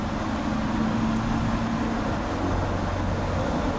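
A Ford Ranger Stormtrak's engine drones steadily as the pickup accelerates to overtake on the road, with constant low road and engine noise at even loudness throughout.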